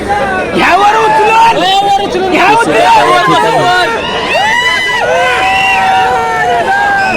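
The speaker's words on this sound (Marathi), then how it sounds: "अतिशय जल्लोष चाललेला आहे पूर्ण पुसेगावच्या या मैदानावरती" A loud, dense crowd roars and cheers continuously at the Pusegaon bullock cart race ground, with many overlapping voices shouting throughout.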